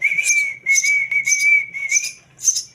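A person whistles to call a hand-fed baby bird for feeding, giving five short, steady, high whistle bursts in an even rhythm, close and loud with no talking.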